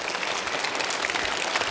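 A stage comedy crosstalk audience claps in a dense, even burst of applause for a couple of seconds, with no voices on top.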